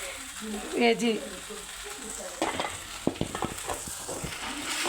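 Vegetable poriyal of beans, carrot, onion and potato sizzles and is stirred in a pan, with soft crackling and scraping knocks in the second half after a brief voice.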